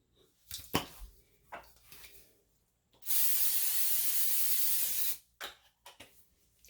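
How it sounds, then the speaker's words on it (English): Canola oil sprayed onto an air fryer basket, one steady loud hiss lasting about two seconds, framed by clattering and handling sounds of the basket before and after. "We have our basket here for the air fryer, and we're going to coat that with some canola oil"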